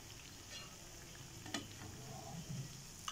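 Bread pakora shallow frying in hot oil in a pan, a soft steady sizzle with faint scraping and small ticks, close and fairly quiet with no talking.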